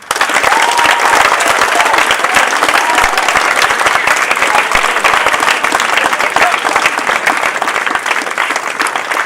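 Graduation audience at a school ceremony applauding teachers and parents, loud sustained clapping from a large crowd that holds steady throughout and fades only slightly at the end.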